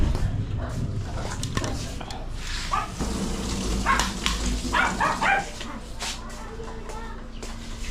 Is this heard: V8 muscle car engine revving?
no